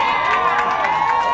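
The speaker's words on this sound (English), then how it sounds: "if you hear anything you like out there, feel free to cheer" An outdoor crowd at a Hollywood Walk of Fame ceremony cheers loudly and continuously, with high whoops and shouts blending into a brief roar.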